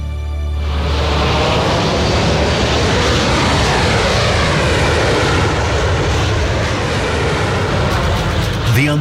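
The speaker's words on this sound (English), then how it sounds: "a jumbo jet carried the shuttle to its launch site at the Kennedy Space Center" Jet aircraft engines roar steadily as a jumbo jet ferries the space shuttle to the Kennedy Space Center, a loud, continuous broadband rumble that swells in within the first second and holds unbroken throughout.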